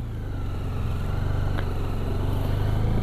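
A motorbike runs along a road beside an ancient mound at Rakhigarhi, its steady, low droning engine close and continuous, growing slightly louder as it goes, with no talking.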